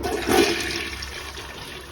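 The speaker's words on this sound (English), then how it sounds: "I'm gonna flush this one more time too, but we have a working bidet." A bidet-equipped toilet fitted with a LUXE Neo-185 seat flushes once, a short surge of rushing water up close that quickly settles into a softer refill trickle.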